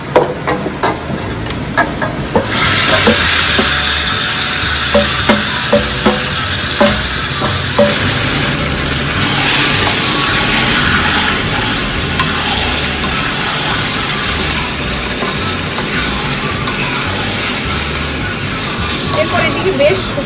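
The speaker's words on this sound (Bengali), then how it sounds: "এবার আমি ম্যারিনেশন করা চিকেনটি দিয়ে দেবো।" Marinated chicken dropped into a hot pan bursts into a loud, steady sizzle, with stirring scrapes and clatter close by throughout.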